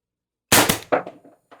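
A single Umarex TR50 air rifle, run on high-pressure air with an expansion stock, fires one sharp, close shot. A short ringing tail follows, then a fainter clank.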